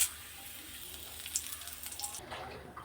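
Whole spices (cardamom, cinnamon, cumin seeds and bay leaf) sizzle in hot oil left from frying potatoes, a soft continuous crackling hiss that grows busier toward the end, with faint pops close by.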